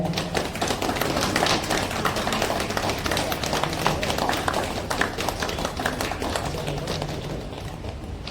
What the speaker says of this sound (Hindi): लोगों से कहूंगा प्लीज जोरदार तालियां बजाएं